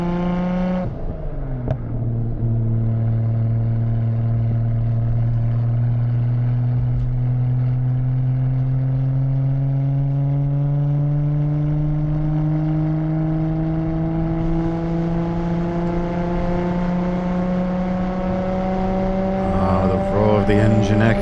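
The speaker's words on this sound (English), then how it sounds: "The engine echoing through the tunnel." A car engine echoes through a tunnel in Japan, a steady droning whine with a slowly rising pitch that fills the space, loud and sustained, ending with a brief surge of revs.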